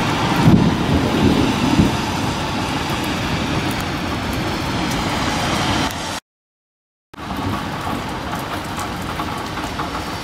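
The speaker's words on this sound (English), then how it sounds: "Now hear the thunder." Thunder rolls during a lightning storm over Santa Monica, California, alongside heavy rain. A loud, continuous rumble carries on and breaks off briefly for a moment of dead silence.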